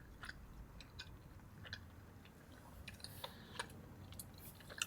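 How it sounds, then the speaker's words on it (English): Quiet, close-up chewing of a large bite of Chipotle barbacoa and carnitas burrito with guacamole, soft irregular mashing and crunching over faint background noise. "that has to be the #1 best bite I've ever taken out of a burrito"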